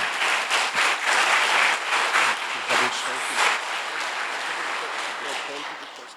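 Church congregation applauding to welcome the pastor, steady dense clapping from many hands filling the room with a few louder swells, sustained throughout.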